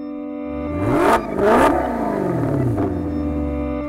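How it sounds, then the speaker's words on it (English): A 2014 Maserati GranTurismo exhaust, flap open, revs hard twice in quick succession, loud and close, then settles into a steady throaty idle. "open up a flapper in the exhaust and just give you that incredible sound"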